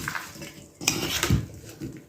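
Eggplant salad gets stirred in a bowl with a spoon, giving soft scraping and a few light clinks of utensil against dish, close and quiet with no talk.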